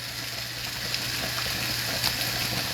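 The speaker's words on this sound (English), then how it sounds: "we're going to put a little water off in there" Water is added to a pan of frying ground beef on the stove, giving a low steady sizzle and bubbling with a faint hum underneath and a few small crackles.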